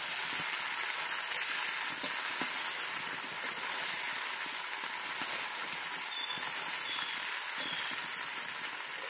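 Jackfruit frying in a pan for jackfruit biryani makes a steady, even hiss that sounds like rain, with a few faint pops and clicks and no voices.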